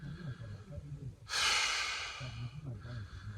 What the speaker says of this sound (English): So obviously breathing's not easy.